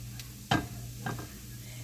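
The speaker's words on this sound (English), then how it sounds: "So you just want to stir your garlic around." Garlic sizzles in hot seasoned oil in a pan, with two quick scraping stirs standing out over a soft, steady fry.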